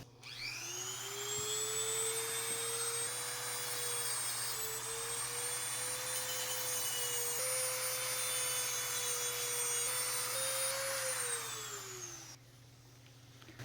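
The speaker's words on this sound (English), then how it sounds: "I'm gonna grind a little bit right here in the edge, so the brake pad is gonna get in, because right now it's too tight" Steady high-pitched whine of a grinder working the edge of a front brake pad for a 2016 Hyundai Veloster Turbo, loud and continuous for about twelve seconds, pitch dipping slightly as the tool loads, then winding down and stopping.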